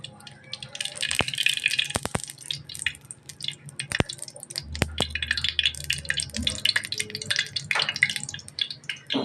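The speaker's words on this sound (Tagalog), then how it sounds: "Lalagyan na natin yung mantika." Cooking oil is poured into a pan at home, with soft trickling, dripping and sizzle-like crackles, sharp clicks, and a brief low hum partway through.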